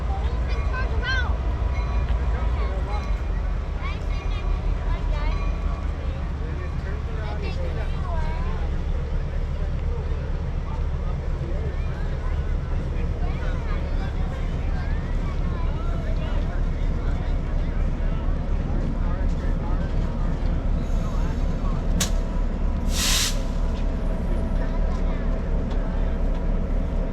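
A railroad turntable turns at the TVRM East Chattanooga yard, a loud continuous rumble and mechanical drone with some metallic squeals late on, while people talk nearby.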